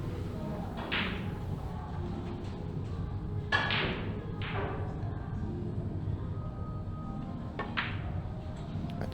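Snooker balls clack in a match setting: a sharp cue-ball strike followed by further knocks as balls meet and drop, set against a steady hum of room noise.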